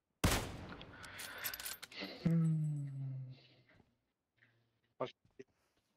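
Video game gunfire opens with a dense burst of rapid shots, then a single loud shot with a ringing tail, followed by sparse quieter clicks and shots, with voices talking over it.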